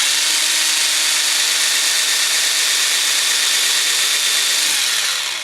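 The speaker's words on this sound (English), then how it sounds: "I'm going to go ahead and drill my pilot hole here." A small power drill bores a pilot hole through the rivet of a Hot Wheels BMW E30 M3 die-cast car, a steady high-pitched whine held close and loud for about five seconds before it spins down.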